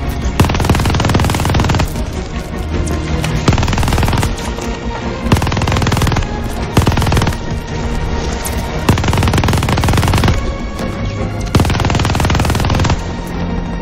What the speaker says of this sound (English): Well, I'm shooting the people here, there's always people here.